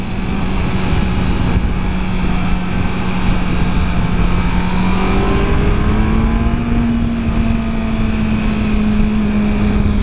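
A 2014 Honda CBR650F motorcycle engine drones loud and steady while riding in second gear at moderate speed, with a smooth pitch rise partway through over constant wind rush.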